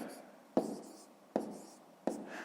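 Numbers being handwritten on paper during a fifth-grade maths lesson, three sharp pen taps each followed by brief scratching strokes, close and fairly quiet with no talk.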